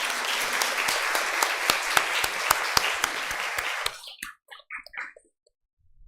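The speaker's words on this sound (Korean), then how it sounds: "박수로 해주시면 감사하겠습니다" Congregation at a Sunday church service applauding the pastor with a dense burst of clapping that stops abruptly, leaving a few scattered claps and small sounds before quiet.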